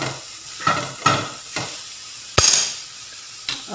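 Mushrooms and onion frying in a pan, a soft sizzle broken by several scraping stirs of a utensil against the pan at irregular intervals.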